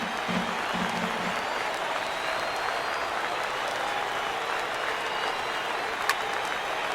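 Baseball stadium crowd applauding and cheering in MLB The Show 19 on a late-game two-strike count, a dense continuous wash of clapping and crowd noise from a distance.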